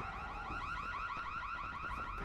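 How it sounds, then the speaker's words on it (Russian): A car alarm going off in the zombie video game Dying Light, a rapid warbling electronic siren sweeping up and down steadily without pause, with no talk over it. "Вырубите сигнализацию."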